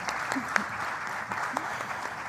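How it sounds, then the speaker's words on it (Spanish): Applause from an audience at a judicial conference presenting conclusions on simplifying court procedure, a steady, moderately distant patter of clapping with a few louder claps standing out and some faint voices mixed in. "Repetimos ese aplauso para ellas, por favor."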